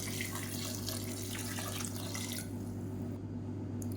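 Water runs steadily from a tap into a cooking pot with a soft splashing hiss under a low hum, then the flow thins and quiets.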